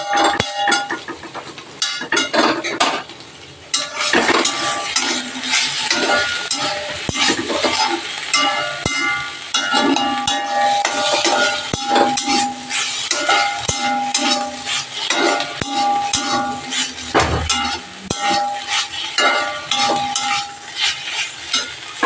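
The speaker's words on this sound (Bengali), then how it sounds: "সামান্য পরিমাণে জল দিয়ে যাতে পোস্তটা একটু ভাজা ভাজা হয়" Red amaranth greens fry with poppy seed paste in a pan, a dense continuous sizzle broken by repeated scraping and clattering stirs of a utensil against the metal, close and loud throughout.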